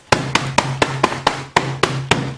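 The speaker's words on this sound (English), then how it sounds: "you could take a kitchen hammer, and I usually use a pot holder, and I can just smash up the bag" Repeated blows of a kitchen hammer smashing a bag of frozen rhubarb through a pot holder, nine sharp, loud thuds in a fairly steady rhythm, each with a brief crunch of ice.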